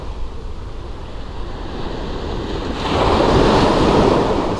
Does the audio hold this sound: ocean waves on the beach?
yes